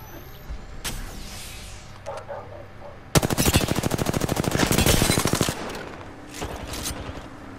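Rapid automatic gunfire in Apex Legends on the World's Edge map, a loud sustained burst of dense shots for about two seconds, with scattered single shots and game noise before and after.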